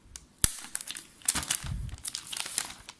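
Thin protective plastic wrap being peeled off an iPhone XS Max box, with close, crisp crinkling and tearing that runs through the whole moment, with sharper snaps here and there.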